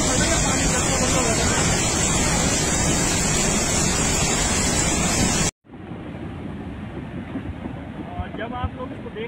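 Floodwater after a cloudburst in Dharamshala rushes in a loud, continuous roar, then an abrupt cut leads to a quieter stretch of churning water with faint voices underneath.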